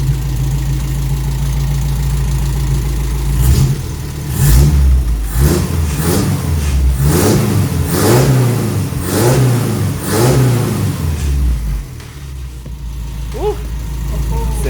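A Toyota Corolla KE55 with a 4K-C engine is revved several times in a row, each blip rising and falling loudly and close up before it settles back to a steady idle.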